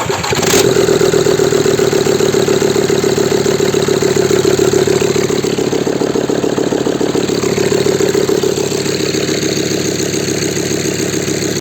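A Volkswagen Transporter T5 130 PS engine with a fault revs loudly and close, a steady rough mechanical drone that swells and holds for the whole stretch, with no talk.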